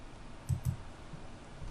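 Two quick, soft computer mouse clicks close together, then a fainter third click, made while working in Revit MEP plumbing modeling software, set against quiet room background.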